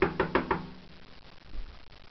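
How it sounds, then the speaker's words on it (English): Four quick, sharp knocks in an even rhythm sound close and fairly loud at the start, followed by quiet room tone. "this has happened like probably the third time I've heard the knocking sound"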